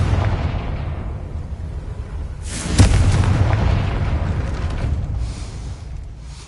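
In Hogwarts Legacy, a Confringo blasting spell erupts in a single booming explosion near the middle, its deep rumble lingering and slowly fading.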